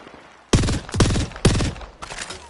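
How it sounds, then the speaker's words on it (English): Gunfire in a video game rings out in four sharp bursts of rapid shots, loud and close, each volley cutting off abruptly after a quiet start. "I'm shooting at him."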